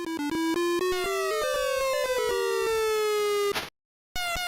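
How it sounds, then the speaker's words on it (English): An electronic ambulance siren from an Atari video game in the Atari 50 collection wails in stepped, rising and falling synthesized tones, loud and alone, then cuts to a brief silence before the tone returns. "There's an ambulance."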